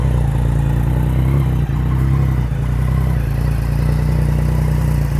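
A 2020 Yamaha XSR900 motorcycle with an aftermarket exhaust, its engine running loud and close in a steady, throaty rumble with a slight rise in revs, heard alone without talk.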